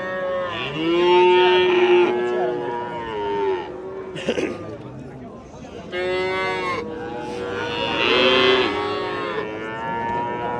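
Cows mooing at a livestock market, several long, loud, drawn-out moos in succession with brief gaps between calls and faint background activity.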